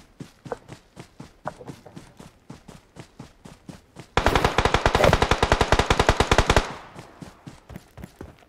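Video game gunfire: after a run of steady in-game footsteps, a loud automatic weapon rattles off a rapid continuous burst of about two and a half seconds, then the footsteps carry on.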